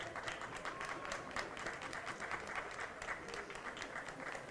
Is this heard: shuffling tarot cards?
no